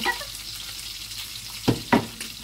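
Meat with onion and garlic sizzling in a pan while cooking a sponge gourd dish, giving a steady, fairly quiet frying hiss with two brief louder stir clatters near the end.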